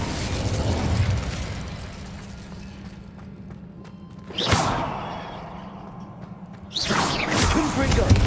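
An Incendio fire spell is cast in a Hogwarts video game: two loud fiery whooshing bursts erupt over a low rumbling background, the second one sustained to the end.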